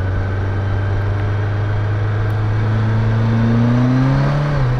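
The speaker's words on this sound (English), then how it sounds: "Yep, clutch is definitely slipping." A BMW K1200LT motorcycle engine revs steadily with a worn, slipping clutch, giving a loud, close, continuous drone that climbs in pitch near the end and then dips.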